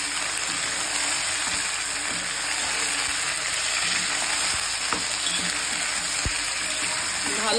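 Mutton pieces fried and stirred with onions in a hot pan, a loud, dense, continuous sizzle heard close up, with scraping from stirring throughout.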